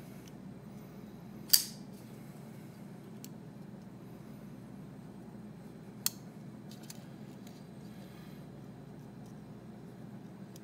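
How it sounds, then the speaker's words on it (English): A Tangram Rumble folding knife with 440 steel blade is flicked open by its thumb studs, making two sharp, close clicks several seconds apart against a quiet room. "You got thumb studs to help aid in deployment. You can spidey flick this guy real nice."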